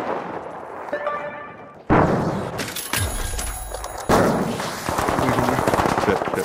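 Turret gunfire in a video game erupts in loud, sharp bursts of rapid shots after a quieter opening, with shouted voices mixed into the barrage.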